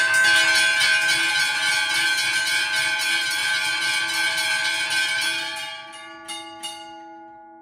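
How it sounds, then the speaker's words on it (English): Thirteen railway crossing bells ring together in a loud, dense metallic clangor that holds steady for several seconds, then cuts off, leaving a lingering ringing tone and a couple of sharp clicks. "That's the sound of 13 crossing bells ringing at the same time"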